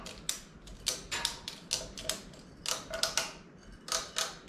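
A ratchet strap is cranked tight on a 1967 Tempest wagon chassis, giving a string of sharp mechanical clicks in quick uneven bursts, close and fairly quiet, with no talking.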